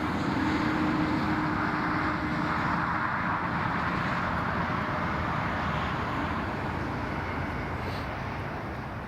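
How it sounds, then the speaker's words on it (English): A TUI Dreamliner airliner arriving at Newcastle International Airport gives a broad, steady jet roar that slowly fades, heard from a distance and continuous with no talking. "we've just arrived in time to see the Tui Dreamliner arrive"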